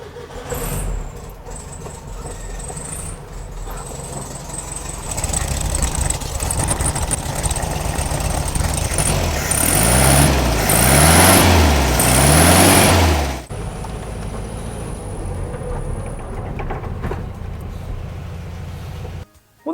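A repaired engine is cranked and starts after a key jangle. It runs with a steady close rumble, revs briefly with a throbbing pulse, then settles back to a quieter idle. No voices are heard.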